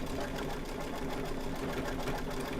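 A computerized embroidery machine stitches an animal design, its needle running at a fast, steady, continuous mechanical hum and rattle, loud and close with no pauses.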